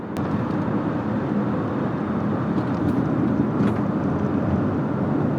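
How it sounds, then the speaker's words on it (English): A 2023 Mazda CX-5 Signature Turbo AWD driving on the road, a steady low engine drone mixed with road and tire noise, heard from inside the cabin without talk. "Nice meaty engine sound."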